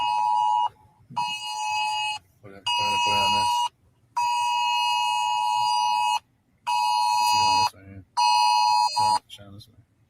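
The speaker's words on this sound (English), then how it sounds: "So this is the alarm situation that came up." A Kenosha County emergency curfew alert sounds on a device as a loud, high electronic tone in repeated long pulses with short gaps. People talk quietly underneath and between the tones.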